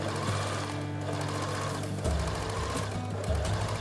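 Sewing machine stitching around the outside of a pocket trim piece, a loud close mechanical whir with rapid rhythmic needle clatter that briefly slows and restarts.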